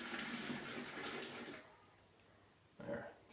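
Yeast starter is poured from a container into a homebrew fermenter, a soft liquid splash and gurgle for about a second and a half, then quiet before a brief second pour; quiet and close.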